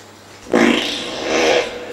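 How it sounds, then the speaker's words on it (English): A long, loud cartoonish fart from the game Toilet Simulator, one sustained rasping blast that swells and then trails off, heard alone and up close. "fart out his intestines"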